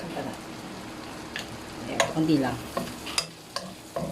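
Chicken gizzard sautéing with garlic in a pan gives a soft sizzle with scraping stirs and clinks, while a voice talks briefly over it.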